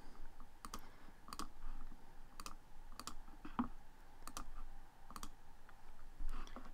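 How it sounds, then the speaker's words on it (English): Crisp computer mouse clicks on web search results, a series of sharp single and double clicks spaced irregularly over a faint room hiss, quiet and close-miked, with no talking. "I'm going to click on the top 3 results."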